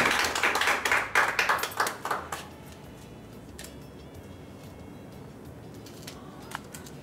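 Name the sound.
congregation clapping to acclaim the Lord at wedding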